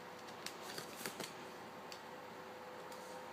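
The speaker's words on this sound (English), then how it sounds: "So I'm just going to peel this away." Homemade vinyl sticker lifted off its transfer backing for a double insulated cup, a soft crackly peel with a few sharp ticks early on, steady and close.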